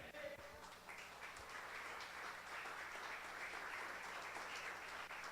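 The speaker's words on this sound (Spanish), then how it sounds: "Denle un fuerte aplauso." A church congregation applauds loudly and steadily, a dense wash of many hands clapping together that holds an even level throughout without a break.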